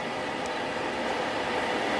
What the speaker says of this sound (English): And here they have very long trains. There we go. It's almost the end of the train.